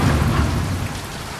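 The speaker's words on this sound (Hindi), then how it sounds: "बादल गरज रहे थे कि अचानक से तेज तूफान शुरू हो जाता है।" Heavy cartoon thunderstorm with loud, dense rain and a deep rumble of thunder, close and continuous with no voices.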